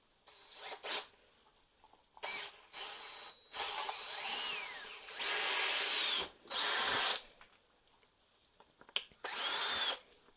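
A power drill bores a hole in a potato cannon part, the bit whining in several short bursts separated by pauses, close and loud.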